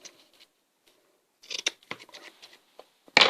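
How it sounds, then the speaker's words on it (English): Scissors snip a fuzzy corner off burlap fabric, a few quiet cuts and rustles building to a louder, close crisp snip at the end, with no talking. "It's kind of fuzzy, so let me cut that little piece off."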